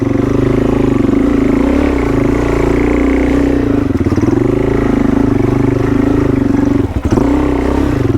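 Trail motorbike engine held under steady throttle on a hill climb, a loud continuous close drone with brief dips near the end.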